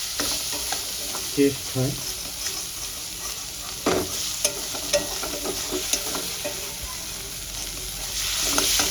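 Masala for a thin katla fish curry with potato and pointed gourd is stir-fried in a pan, a close, steady sizzle with spoon scrapes and knocks, and a voice briefly speaks over it.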